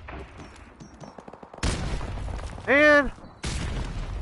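Grenade blasts go off in a first-person shooter, heavy booms repeating amid game noise while someone talks loudly over the action.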